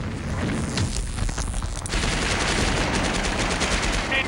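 Heavy sustained gunfire from a PC video game shown at E3 2004, dense rapid machine-gun bursts rattling loud and close without pause, with no speech.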